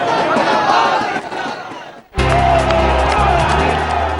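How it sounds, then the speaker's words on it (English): A huge crowd of BJP supporters in Varanasi chants Namo at a Modi rally, loud and dense. The roar dips briefly midway, then surges back even heavier with a low rumble underneath. "The Namo chant deafening."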